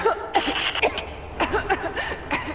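A woman in Rise of the Tomb Raider coughs in a series of harsh, close bursts, uneven and spluttering, with brief gasps between them and no clear talk.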